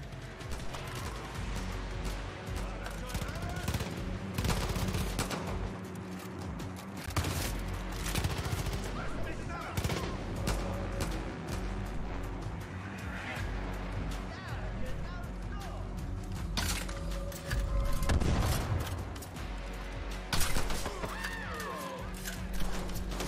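Sustained gunfire from a Far Cry New Dawn battle, with loud bursts and automatic fire running nonstop beneath a dense in-game soundscape, and someone speaking over the shooting.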